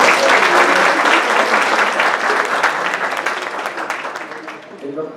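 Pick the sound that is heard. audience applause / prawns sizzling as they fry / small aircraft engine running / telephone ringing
audience applause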